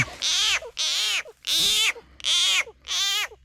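Frogs croaking at night in the Thai countryside during a frog hunt with a fishing spear gun: five loud, evenly spaced croaking calls, close by, with no voices.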